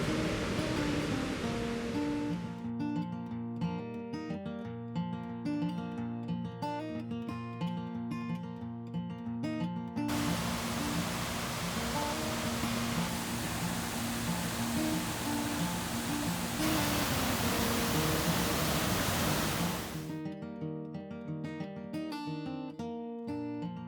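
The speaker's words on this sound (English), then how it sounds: "We're at the Foxy Waterfall in the Golden Circle in Iceland." Foxy Waterfall in Iceland's Golden Circle: a loud, broad rushing roar of falling water in two long stretches, alternating with passages of music carrying tonal melodies.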